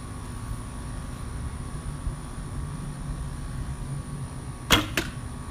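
Arrow loosed from a bow at a Friday night archery shoot with FMJ arrows, heard as a sharp double thwack near the end over a steady low outdoor hum, no talk.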